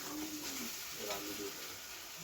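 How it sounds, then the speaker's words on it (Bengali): Potol and shrimp sauté with Kashmiri chili powder in a pan, giving a soft, steady sizzle with faint stirring scrapes. It is low and continuous, with no talk. "এটা একটু ভালো করে কষিয়ে নেওয়া হচ্ছে।"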